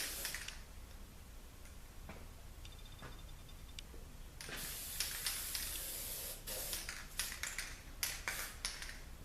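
Aerosol sealant sprayed onto both sides of an engine gasket during a Honda engine assembly, heard as a long close hissing burst followed by several shorter spurts, with faint ticking and handling noises around it.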